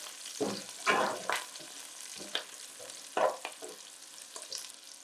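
Butter sizzling and popping in a hot pan on the stove, with a steady crackle broken by several louder bursts and spatters, close and moderately loud with no talking.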